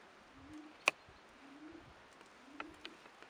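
A racing pigeon coos softly in a few low, rolling phrases, quiet and nearby, with a sharp click and small knocks in an otherwise calm space.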